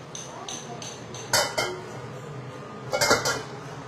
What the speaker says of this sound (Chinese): 先热锅洗一下锅，刚刚是炒麻婆豆腐的锅